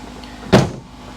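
Range Rover tailgate pushed shut: a single solid thunk with a short mechanical latching tail, close and fairly loud over a quiet background.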